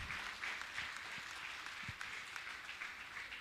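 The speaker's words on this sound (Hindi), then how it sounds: "जोरदार जोरदार ताली बजाकर इनका सम्मान करें।" Audience applause at a Jain religious gathering honouring a trust official, heard as steady, moderately faint clapping from a crowd that carries evenly throughout with no voices over it.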